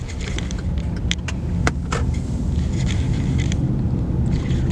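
A car pulls away from a complete stop at a stop sign in a residential area during a Georgia driving test, with steady low engine and road rumble continuing throughout, plus a few brief clicks and rattles inside the cabin.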